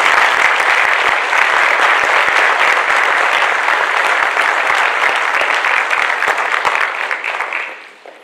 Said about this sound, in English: Let's give all these veterans a round of applause